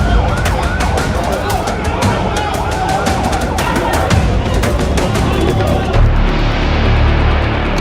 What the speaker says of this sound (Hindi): एक के बाद एक एम्बुलेंस फ्लैश लाइट जलाकर पहुंचती है।